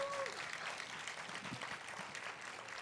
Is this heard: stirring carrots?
no